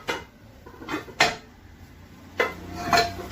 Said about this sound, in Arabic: ده طقم حلل جرانيت.